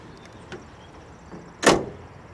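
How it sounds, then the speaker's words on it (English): A 2020 Toyota Tundra TRD Pro CrewMax's slow-release tailgate lowers: faint soft knocks early, then a single sharp, close clunk near the end as it settles, with no talking. "as we drop this tailgate down, wanted to show you that it's a slow release tailgate."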